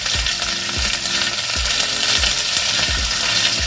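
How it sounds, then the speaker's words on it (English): Vegetables sauté loudly in a hot pan, with a dense, continuous sizzle and crackle and occasional soft knocks from stirring, close and without speech. "we're just gonna let these saute for probably 5 minutes"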